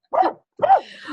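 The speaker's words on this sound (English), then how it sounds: "that must be my dog. I'm hearing it." A dog gives two sharp, close barks separated by a short pause, the second trailing into a softer whine, loud and clear with no talking over it.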